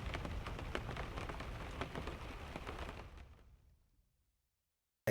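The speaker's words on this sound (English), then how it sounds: "A little rain isn't so bad" Video-game rain falls on a fishing boat in a steady, dense patter that fades away to silence partway through, followed by a brief sharp sound at the end.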